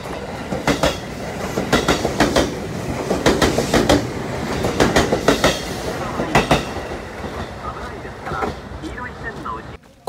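Wheels of a sightseeing train on Japan's Nippō Main Line rattle and clack steadily on rails, with rhythmic joint clicks and a rumbling carriage, loud and close throughout.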